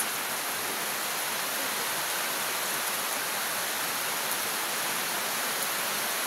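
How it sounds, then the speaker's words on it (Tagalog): Heavy rain pours down steadily at home in the Philippines, a dense, constant hiss that stays uniformly loud throughout, with no voices or breaks. "Hindi nyo ko marinig kasi umuulan, malakas yung ulan dito sa amin"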